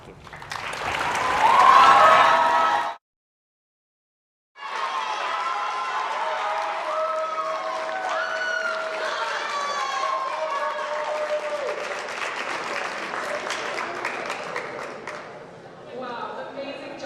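Students in a high school poetry slam audience break into applause and finger snapping that carries on steadily for many seconds after a short silence, with a voice and crowd chatter mixed in.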